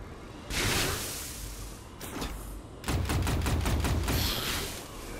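Gunfire aimed at the player in the video game Otherskin: a short burst, a brief volley, then a rapid rattling string of shots lasting over a second, loud and close, with no talk.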